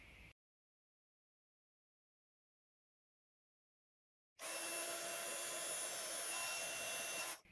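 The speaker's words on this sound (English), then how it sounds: "And then I'm going to heat emboss this again." A heat gun heat-embossing a stamped Christmas card: after several seconds of silence, a loud, steady blowing whir starts abruptly and runs for about three seconds before cutting off, with no talking.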